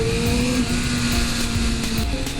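A Kawasaki Ninja ZX7R engine holds around 4,500 RPM, its steady mechanical drone carrying a sustained induction tone at a constant loud level without speech.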